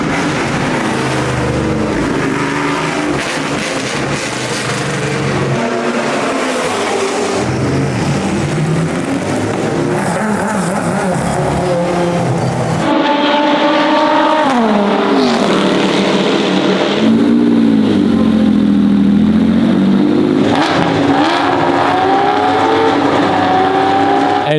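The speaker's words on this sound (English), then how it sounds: "And another great lineup of cars just driving." Expensive historic race cars drive through the pit lane at Espiritu de Montjuic, loud engines revving and shifting one after another, with pitch rising and falling as they pass close by.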